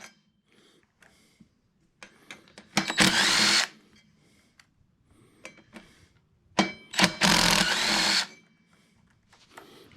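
Power tool removing the brake rotor bolts from a 1999 Yamaha R1 wheel, two loud close bursts of whirring and rattling about a second each, separated by quiet handling clicks and small knocks.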